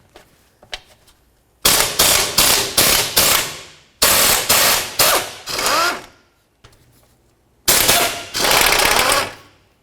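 Engine mount nuts, 14mm, being spun off from under the subframe of a 2004-2006 Scion xB with a power tool, in loud rattling impact bursts: a run of four or five quick hits, a longer pair of bursts, then a sustained final run, with quiet gaps between.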